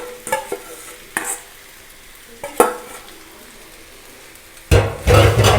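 Mashed boiled potatoes being mixed in a pan over a low gas flame, with a few distinct spatula scrapes and knocks against the pan, then louder continuous stirring at the end.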